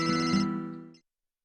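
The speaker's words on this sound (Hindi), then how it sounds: "वो डैडी का फोन होगा।" A telephone ringtone sounds loud and close in a TV drama, ringing steadily before cutting off after about a second, with no voices over it.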